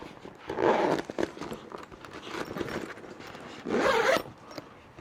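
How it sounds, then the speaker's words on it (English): A zipper on an electric folding bike's battery bag is pulled in a few quick strokes, with rustling fabric between pulls, close and fairly quiet. "this is the bag that I put my battery in, and that zips up."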